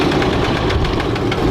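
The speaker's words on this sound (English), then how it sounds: "Listen to those exhaust leaks purr." Laymo land yacht's engine running rough with leaking exhaust, a loud, steady rumble with rapid knocking pulses filling the short stretch, no voices over it.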